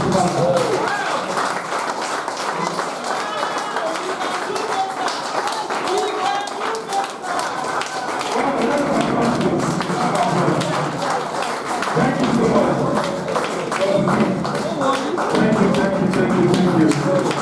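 An audience applauds at a Superlife Nigeria event, steady dense clapping that runs continuously for many seconds, loud and close, with voices and a speaker talking over it.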